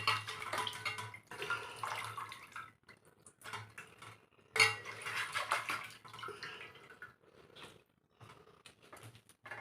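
A washed crab goes into a metal vessel during cleaning. Short bursts of splashing water alternate with clinks and clanks of metal, separated by quiet gaps.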